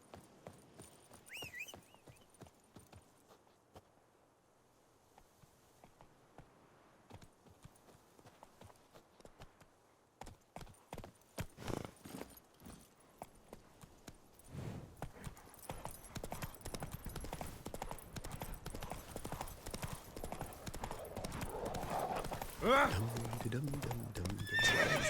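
A horse in The Witcher 3 video game trots and gallops with steady clip-clopping hooves and an occasional neigh, under spoken commentary and game sounds that build louder over time.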